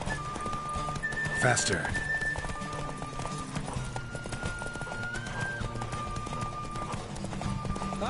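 Horse hooves clip-clop steadily while galloping in The Witcher 3, with a whinny and a whistle over a continuous game soundtrack, and a voice talking over the ride.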